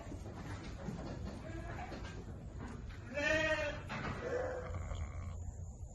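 Jacobs sheep on a farm bleat in a few short wavering calls, fairly close and mixed with steady outdoor background noise.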